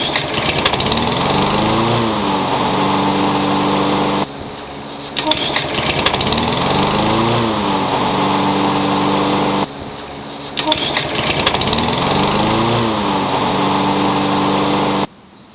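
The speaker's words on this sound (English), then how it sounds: "when it was cold and it would rev really high and then idle back down to normal" Small Craftsman lawn mower engine running at a high, steady rev after a cold start and then dropping back to idle. It sounds loud and close, with the pattern repeating three times and brief quieter gaps between.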